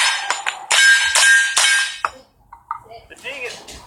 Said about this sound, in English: I'm gonna hit the target so you can hear how loud the ding is.